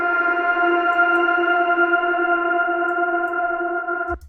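A sustained melodic sample pitched down a half step, a steady bell-like synth tone with harmonics and effects, holding for about four seconds before cutting off abruptly.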